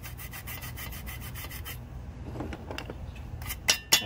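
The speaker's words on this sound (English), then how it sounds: "I'm going to get a Scotch-Brite. Polish this thing up very, very, very easy, very simple." Scotch-Brite pad scrubbing and polishing a metal part during a Powerstroke Super Duty install, rapid close rubbing strokes at first, then quieter scratchy scraping ending in two sharp light knocks.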